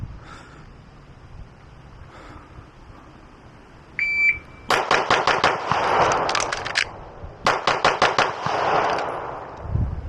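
A Taran Tactical JW4 Pit Viper pistol fires outdoors after a shot-timer beep: a rapid string of five loud, close shots, a brief pause for the reload, then a second quick string of shots.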